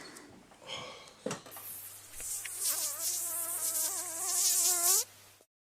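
A mosquito buzzes close by, a thin, whining drone that wavers in pitch and grows louder before cutting off abruptly, with a faint low hum and a few soft clicks underneath.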